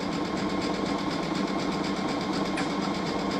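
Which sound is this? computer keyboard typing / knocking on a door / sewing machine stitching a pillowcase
sewing machine stitching a pillowcase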